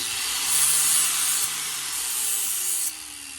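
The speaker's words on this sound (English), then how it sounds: "I say trim down, but I meant like just sanding it." Steady abrasive sanding of a car cowl panel, a continuous rough hissing scrape that swells and eases in long strokes, close up with no voices.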